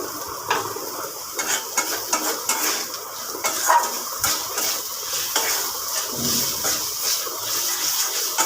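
Sesame seeds roasting in a wok, stirred constantly, give a steady close crackling hiss with scattered light scraping ticks and no voices.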